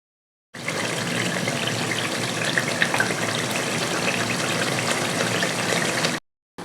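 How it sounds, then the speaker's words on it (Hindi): Whisked yogurt is stirred into a pan of egg korma masala on low heat, giving a steady, close, moist sizzle and bubbling for several seconds, abruptly cut off near the end, with no talking. "दही डाल के अच्छे से मिक्स करते हैं।"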